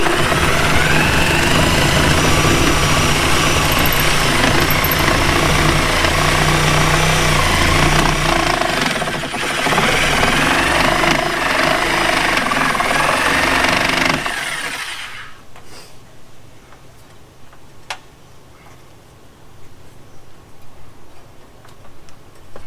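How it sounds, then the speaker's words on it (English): A reciprocating saw cuts through two layers of T1-11 siding in loud, steady rattling strokes for about fifteen seconds, then stops abruptly, leaving quiet shop background. "That's as far as I can cut it with the reciprocating saw."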